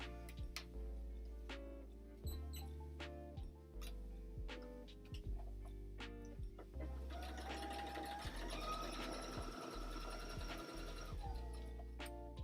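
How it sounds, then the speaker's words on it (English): A sewing machine stitches bias binding onto fabric, running in steady continuous bursts with brief stops between runs, close and fairly loud throughout. "I'm gonna just sew the bias binding first to this fabric"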